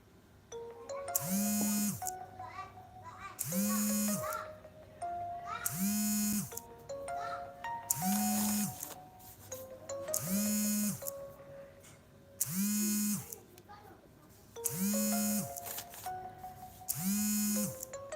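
A phone rings in a home kitchen where pempek is being made, a chiming ringtone repeating in regular bursts about every two and a half seconds, fairly quiet against room noise.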